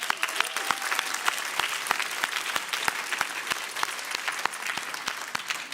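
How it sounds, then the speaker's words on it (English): Enthusiastic audience applause at the Cardano Summit 2025 for ten pitch finalists and judges, dense steady clapping throughout with sharp individual claps standing out near the microphone. "let's give a big round of applause to all the 10 finalists and our beloved judges"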